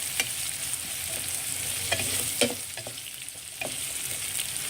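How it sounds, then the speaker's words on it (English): A pot of vegetable, egg and tofu soup is stirred. A soft, steady bubbling hiss runs under scattered scraping and clinking strokes from the spoon. "Give this a good mix."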